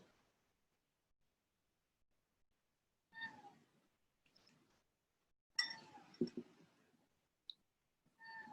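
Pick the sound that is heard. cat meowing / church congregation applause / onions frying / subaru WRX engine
cat meowing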